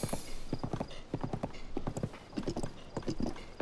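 Horse hooves clip-clop in Zelda: Tears of the Kingdom, a quick, regular gallop rhythm of distinct thuds close by, fairly quiet, with a brief whinny mixed in.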